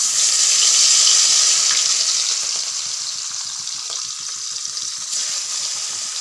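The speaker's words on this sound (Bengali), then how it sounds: "তেল গরম হয়ে গেছে, এবারে মাছটা দিয়ে দিব।" Rohu fish frying in hot oil, a loud steady sizzle and hiss that swells at first and then settles into a continuous crackling fry with no voices.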